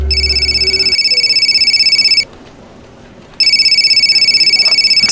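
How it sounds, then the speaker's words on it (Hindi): A mobile phone rings loudly with a repeating electronic ringtone that pauses briefly mid-clip and then resumes, playing alone without talk in an office setting. "एक्सक्यूज मी, मेरी मम्मी का फ़ोन है"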